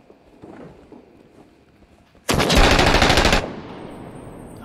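A sustained burst of automatic rifle fire in the video game Six Days in Fallujah, loud and close, lasting about a second after quieter shuffling and movement sounds.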